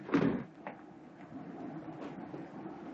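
A single door being opened in an old house, with a sharp latch clunk at the start, a softer knock, then a faint creak against quiet room tone.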